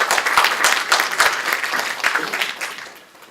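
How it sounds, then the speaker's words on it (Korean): Audience applause at a political party meeting, a dense burst of many hands clapping that swells and then fades out over a few seconds, moderately close with no speech. "격려의 박수 한번 보내주세요."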